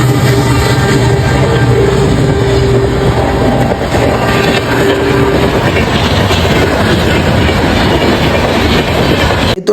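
A passenger train runs along the rails with a loud, close, continuous rumble, steady wheel clatter and a faint squeal, unbroken for the whole stretch with no speech.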